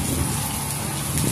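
Heavy rain from Typhoon Ulysses in Tarlac City pours down as a dense, continuous hiss of water drumming on surfaces, loud and close throughout.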